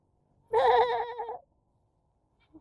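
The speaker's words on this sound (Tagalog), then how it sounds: "Mga kambing po." A single goat lets out one loud, wavering bleat close by, followed by silence and a faint brief sound.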